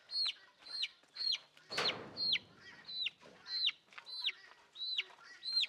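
Sonali chickens cluck in a steady repeated rhythm of short, rising calls, close by, with one sudden rustling burst partway through.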